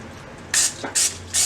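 Three short hissing bursts of olive oil cooking spray onto a pan, close by and evenly spaced, with quiet pauses between them.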